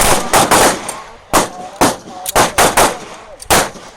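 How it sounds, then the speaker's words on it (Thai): Rapid, loud gunshots ring out close by during a magazine-change shooting drill, several sharp cracks in quick bursts with short gaps between them. "เรายิงพร้อม เริ่มยิง"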